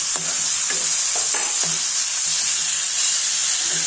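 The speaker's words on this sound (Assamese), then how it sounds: "দি লৈ আকৌ অকণমান সময় ভাজিছোঁ" Steady, loud sizzling of pumpkin and spices frying in a pan, with several scraping strokes of a spatula stirring near the start and end.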